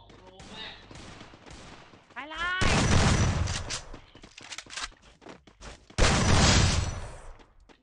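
Gunfire in the Free Fire mobile battle royale game, two long loud bursts of rapid shots with lighter scattered shots and footsteps between them, heard alongside Vietnamese voice chat.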